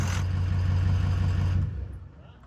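Ford F350 diesel service truck engine running with a steady low rumble and strong, slightly pulsing throb, loud and close, then dropping off sharply toward the end.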